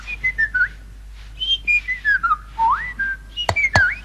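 A baby whistles a wandering, sliding melody of short tonal phrases with brief gaps, close and clear, ending with two sharp clicks.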